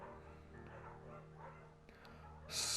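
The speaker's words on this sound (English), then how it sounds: "scruffy, undersized beagle." A scruffy, undersized beagle barks in the video game Firewatch, with faint, brief yaps sitting under a steady musical score and no talking.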